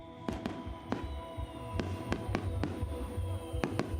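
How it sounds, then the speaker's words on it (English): Fireworks exploding at a celebration party: around ten sharp, irregularly spaced bangs over a low, rumbling crowd background, moderately distant and fairly quiet overall. "Fireworks exploded above, cheers rose up from the crowd"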